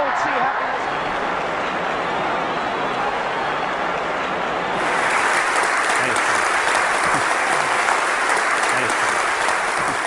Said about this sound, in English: that great round of applause